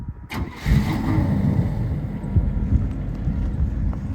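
A Buick Roadmaster station wagon engine turns over and settles into a steady low rumble, close and continuous with no voices.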